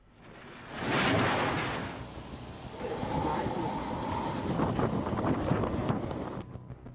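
Cyclone Titli's strong wind and sea waves on the Odisha coast: a loud, continuous broadband roar that swells sharply near the start, eases a little, then builds again into steady churning gusts.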